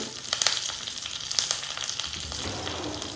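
Curry leaves hit hot coconut oil with a sharp burst of crackling, settling into a close, continuous sizzle of tempering with mustard seeds and garlic, a few pops standing out early.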